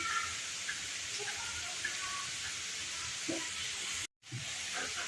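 Carrot halwa simmering in a covered pan, a steady soft sizzle and hiss with faint bubbling pops, continuous and close, briefly cut by a moment of silence.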